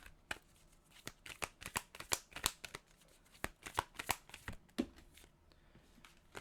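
Tarot cards being shuffled and drawn from a deck, a close series of crisp riffling slaps and snaps in irregular bursts, with no voices.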